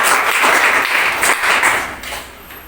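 A classroom group breaks into loud, brisk clapping in a short burst that tapers off toward the end.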